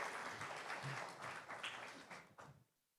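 Audience at a kids' summit fireside chat on animation claps steadily for a few seconds before the applause quickly dies away, moderately loud and close.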